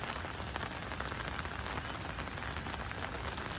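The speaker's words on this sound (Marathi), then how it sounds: "भरपूर पाऊस आहे" Heavy rain pours steadily at a riverside camp during a downpour, a dense, continuous hiss of drops drumming on surfaces close by, with no pauses for the full stretch.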